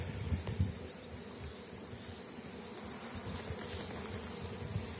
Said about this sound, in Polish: pszczółki latają. Ostro, młode, stare, wszystkie